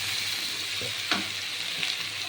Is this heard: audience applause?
no